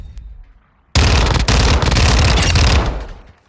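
Kriss Vector .45 ACP firing in Call of Duty MWII, a loud, dense burst of rapid gunfire that starts abruptly after a quieter moment and rattles on for about two seconds before fading out.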